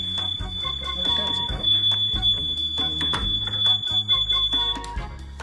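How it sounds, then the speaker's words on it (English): A childproof door alarm at a resort room in Orlando sounds a steady, piercing high electronic tone that holds for several seconds over muffled background music and clatter. "if the alarm goes off and a little kid accidentally walks outside"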